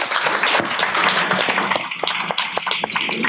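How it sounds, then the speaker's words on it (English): Panel audience applauding after a discussion, a dense, continuous burst of clapping that thins into scattered claps toward the end. "Applause to the panel."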